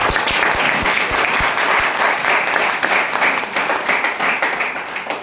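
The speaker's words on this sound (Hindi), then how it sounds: "तो ऊपर वाले के लिए एक बार जोरदार तालियां होंगी" Loud, sustained audience clapping fills a seminar hall during a closing speech, starting with a few sharp individual claps before swelling into continuous applause.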